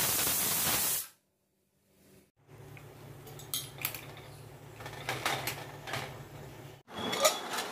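A pressure cooker with white navy beans lets off a loud, bright burst of hissing steam for about a second, then gives way to quieter kitchen clatter and low hissing.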